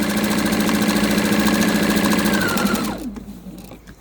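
A sewing machine running steadily at a short 1.5 stitch length while binding a quilt with a faux chenille edge, a loud, close, continuous mechanical whir that winds down and stops near the end.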